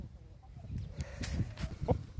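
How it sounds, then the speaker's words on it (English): Homestead chickens out on fresh spring grass, giving a few soft scattered clucks and short calls amid quiet outdoor background noise, fairly faint and intermittent. "the chickens are on fresh grass."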